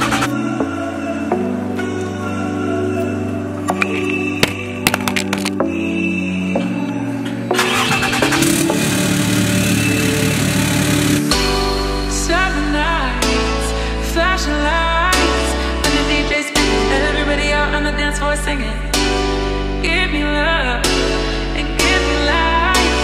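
An adult-size Power Wheels ride-on vehicle, its engine starting and then running and revving as it drives off to the shop, loud and close, with music playing throughout and no talk.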